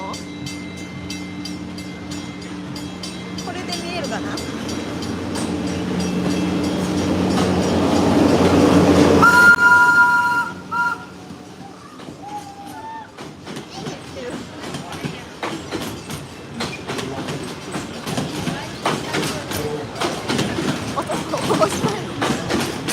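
A train rumbles into a station at Disney's Animal Kingdom in Florida, its roar building, then brakes squeal and wheels clatter in a steady clickety-clack as it rolls past nearby; a person speaks briefly.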